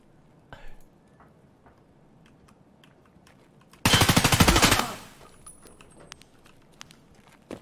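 Automatic gunfire in the shooter game Escape From Tarkov, one loud sustained burst of rapid shots lasting about a second amid quiet ambient game sounds.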